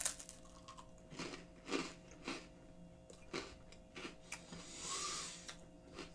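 Quiet, irregular crunching bites of a crisp wasabi soy sauce rice cracker, several sharp crackles spaced a second or so apart, close and alone without talk.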